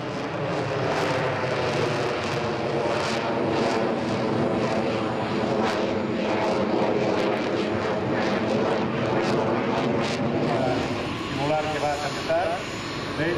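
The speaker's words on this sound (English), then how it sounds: "Here we see a Spanish Air Force A400M coming over from Zaragoza" Spanish Air Force A400M military transport aircraft flying over at an air show, a loud sustained engine roar that stays steady the whole time, with voices and crowd noise mixed underneath.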